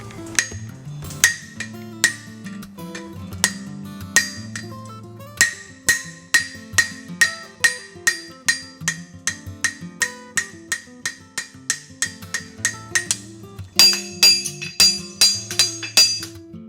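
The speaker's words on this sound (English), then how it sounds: "work our hammer around this back side, flip the shoe over, work our hammer around the front side" Steel horseshoe hammered on an anvil for a toe clip: a long run of sharp metallic strikes in steady rhythm, close and loud, with brief pauses between bursts and a denser, brighter flurry near the end.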